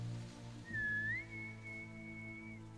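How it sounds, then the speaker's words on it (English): A single clear whistle, quiet and close, rises and then holds a long steady tone, used as a secret greeting between sisters in a film scene. "The movie starts with a whistled hello and ends with a whistled goodbye."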